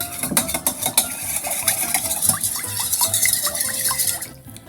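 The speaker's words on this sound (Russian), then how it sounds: "Все это хорошо перемешиваем." Onion and vinegar marinade for shashlik being stirred in a bowl, with close, quick clinks and scrapes of a spoon against the dish and a wet, sloshing texture throughout.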